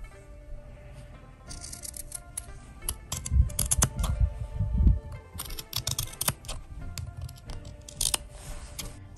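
Scissors trim around the edges of two stacked pieces of fabric for a sewing project, making a run of crisp, quick snips and rustles, close and fairly quiet with no talking.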